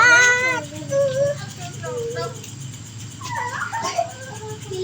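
Dog whimpering and yipping outdoors at a barbecue grilling spot, high thin whines rising over steady background hum and crowd noise, with talk-like sounds mixed in.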